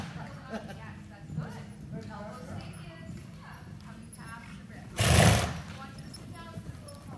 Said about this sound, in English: Let's go ahead and pick up a rising trot.